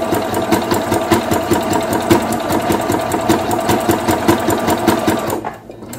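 A sewing machine stitches fabric pieces together for a grocery bag holder, a steady close rapid mechanical whir with regular needle clatter running continuously, stopping just before the end.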